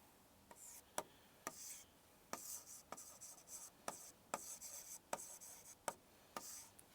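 Chalk or marker writing on a classroom board during a geography lesson, a steady series of short scratchy strokes and sharp taps, close and fairly quiet, with no talking over them.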